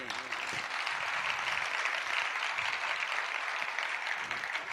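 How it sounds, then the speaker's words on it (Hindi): An audience at an afternoon religious discourse gives steady, continuous applause. The hall is filled with a dense wash of many hands clapping at moderate distance, holding constant throughout. "खाली तालियां नहीं बजाना"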